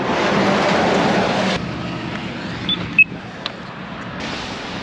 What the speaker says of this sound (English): There's a ton of traffic noise.